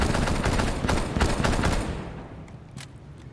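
Dense bursts of automatic gunfire fired through a wall in the video game Rainbow Six Siege, loud, rapid and continuous at first, then thinning to a few scattered shots.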